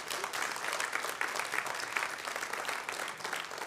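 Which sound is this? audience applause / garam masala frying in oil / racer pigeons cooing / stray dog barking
audience applause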